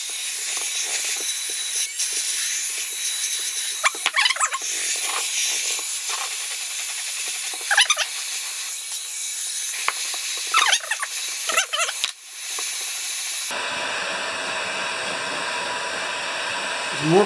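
Heat gun blowing hot air over a plastic part from an old Rally electric start lawn mower, a steady loud hiss and fan roar held for a long stretch, with a brief dip and a shift in tone near the end.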